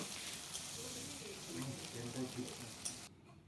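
Onion paste frying in a pan for a duck egg curry gives a steady, close sizzling hiss under a voice, then cuts off sharply near the end.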